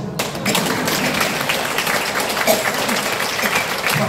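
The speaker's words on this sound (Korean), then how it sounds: "박수." Audience applause fills a lecture on Catholic online missionary work, a dense steady wash of many hands clapping at moderate loudness with some crowd murmur.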